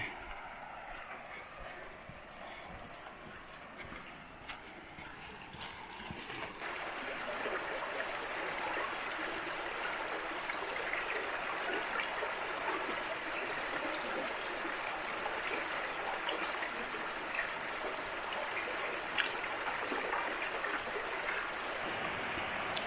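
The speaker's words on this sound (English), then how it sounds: "This creek is just beautiful," Creek water in the Ouachita National Forest rushes and burbles over layered rocks in a steady, continuous stream, growing fuller after the first few seconds.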